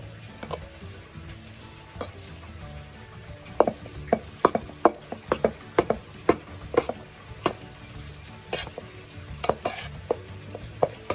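A pan stir-fry for a Thai savory stuffed khanom thian filling, with bean going in: scattered sharp scrapes and clacks of a utensil against the pan over a faint sizzle, fairly quiet and irregular.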